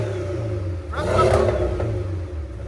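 Close and loud, a 2.0L turbocharged 2017 Porsche 718 on a cat-back exhaust sits at a rumbling idle before one strong rev swells and falls back midway.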